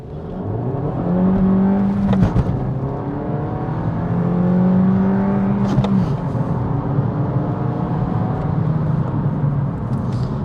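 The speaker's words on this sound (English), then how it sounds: "Let's do it again, off the handbrake." A Suzuki Swift Sport Hybrid with a manual gearbox launches from a standstill off the handbrake, the engine note climbing steadily through each gear with brief dips at the shifts, loud and close throughout.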